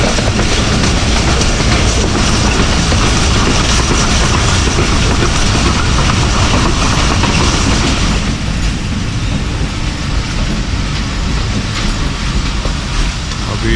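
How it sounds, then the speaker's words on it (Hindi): The Kohat Express rolls along the track at around 75–80 km/h, a loud, steady roar of wheels and rushing carriage noise heard from on board with faint rhythmic clatter, dropping slightly in intensity partway through. "बहुत ही खूबसूरत ट्रैक साउंड सुनने को मिल रहा है।"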